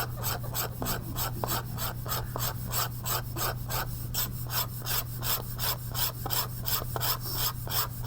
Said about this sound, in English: This is why I like to have music when I'm scratching here